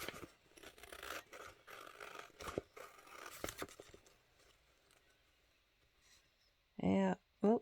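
Scissors snip and scrape through a paper envelope in a run of close, crisp cuts, then fall quiet before a couple of loud bursts at the end.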